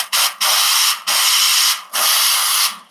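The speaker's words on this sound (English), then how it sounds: "Pretty strong steam." Steam wand on a Turin Gallatin HX heat-exchanger espresso machine hissing loudly in several strong bursts, each a broad, steady rush with short gaps between, close up and with no talking.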